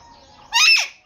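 A pet Alexandrine parakeet gives a single loud, harsh squawking call, close and brief, after a faint quiet moment.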